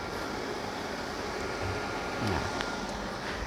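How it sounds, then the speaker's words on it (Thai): Cooling fan of an EA-900G4 UPS (6 or 10 kVA) spinning up after power-on, a steady, dense broadband whoosh and hum that stays constant throughout with no voices. "จะได้ยินเสียงพัดลมทำงานนะครับ"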